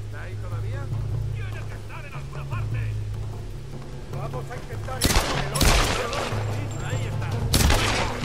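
Gunfire in the Tomb Raider video game on hardcore difficulty: bursts of rapid shots crack out over a droning game background, with voices mixed in.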